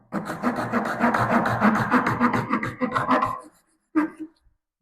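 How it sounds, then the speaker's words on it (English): A Japanese Dozuki handsaw cuts wood in rapid, rhythmic rasping strokes up close, stops abruptly, then gives one short final stroke before silence. "Switch things up with my Dozuki. Here's my Dozuki saw."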